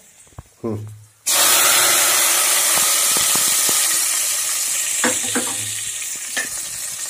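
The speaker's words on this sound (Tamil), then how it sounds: "முந்திரி பருப்பு பொரிஞ்சு நல்லா இருந்துச்சு எடுத்து ஊற்றிடுறேன்" Cashews fried in ghee are poured into a pot of millet pongal, setting off a sudden loud, sustained sizzle and hiss after a few quiet clinks, then fading slowly with faint stirring taps and brief voices nearby.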